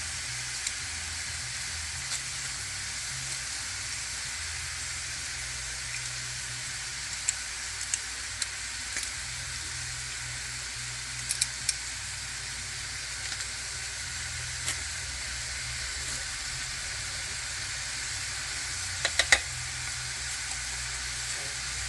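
Meat browns in a hot pan with a steady, loud, broadband sizzle that continues unbroken throughout, with a few faint clicks and no talking.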